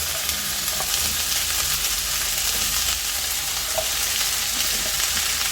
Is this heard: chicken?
yes